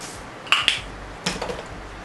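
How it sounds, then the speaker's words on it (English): A face mist setting spray gives a few quick, close spritzes: two short hissing bursts, then a third a moment later, in an otherwise quiet room with no one speaking. "You just spray down my face"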